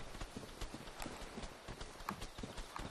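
Clopping footsteps of small mushroom enemies in Dark Souls, a rapid irregular patter of hoof-like thuds at moderate volume, continuous throughout with no talk.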